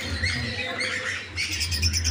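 Pigeons in a loft coo and squawk together in a busy, continuous chorus at close range, with soft flutters and no talking.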